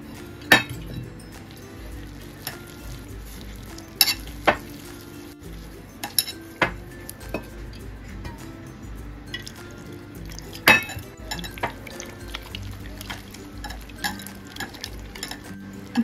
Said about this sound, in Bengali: এইভাবে কিন্তু ব্যাটারটাকে ফেটাতে হবে